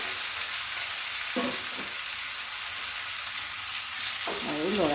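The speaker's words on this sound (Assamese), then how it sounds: "এতিয়া মাংসখিনি ঢালি দিম।" Marinated chicken tipped into a hot pan for an Assamese papaya and curry leaf dish, sizzling and frying steadily close up, with a brief stirring scrape and a louder hiss near the end.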